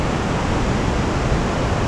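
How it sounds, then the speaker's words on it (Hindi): Langvoku Waterfall in Karbi Anglong, Assam pours heavily, a loud, constant broadband roar of rushing water that fills the scene with no other sounds standing out. "पानी का फ्लो ज़्यादा है, आवाज़ सुनाई नहीं देगा।"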